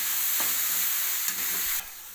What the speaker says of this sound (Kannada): ಖಾರ ಪುಡಿ, ಧನಿಯಾ ಪೌಡ್ರು, ಗರಂ ಮಸಾಲೆ ಎಲ್ಲನೂ ಹಾಕೊತಾ ಇದ್ದೀನಿ. ಮಿಕ್ಸ್ ಮಾಡ್ಕೊತಾ ಇದ್ದೀನಿ.